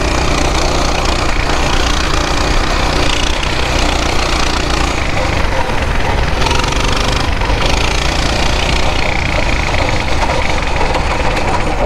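A Coleman BT200X mini bike engine runs loud and close, a continuous buzzing, rattling drone that holds steady throughout with slight surges, no voices heard over it.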